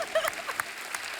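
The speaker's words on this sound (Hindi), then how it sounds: "माता पिता के लिए जोरदार तालियां।" Brief burst of studio audience clapping on a comedy talk show, short and moderately loud, with some voice sounds mixed in.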